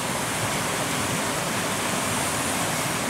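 Water rushes steadily through a ravine near a river, a dense, even, broadband roar that stays constant and close with no voices.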